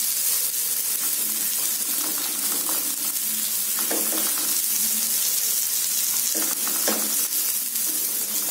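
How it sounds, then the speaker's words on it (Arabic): Chopped onion frying in oil in a pan, a steady, loud, close sizzle that runs unbroken throughout, with a few faint clinks of stirring. "كنخليو البصلة تشحر في الزيت"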